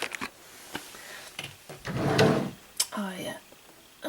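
A bottom drawer in a craft room slides open with a brief rumbling scrape and a couple of clunks, close and moderately loud, followed by light rustling of the contents.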